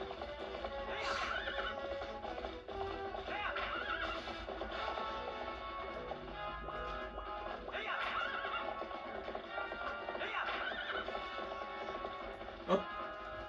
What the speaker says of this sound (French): C'est plus rapide quand on a un cheval.